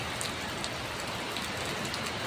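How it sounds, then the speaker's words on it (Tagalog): Dense, steady heavy typhoon rain pours continuously, a loud hiss with scattered drops hitting nearby surfaces. "Ang ulan dito."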